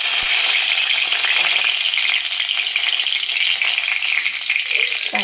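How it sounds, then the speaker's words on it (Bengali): Whole cardamom, cinnamon and bay leaf sizzle in hot mustard oil, a loud, dense, unbroken crackling hiss that holds steady throughout, close up with no voices. "তো সবার প্রথমে আমি ফোড়ন দিয়ে দেবো"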